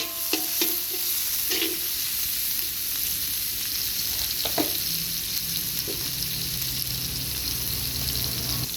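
Chopped ingredients sautéed in a little oil in a pan for stir-fried pak choy, a steady sizzle running throughout with a few brief clinks of a utensil stirring.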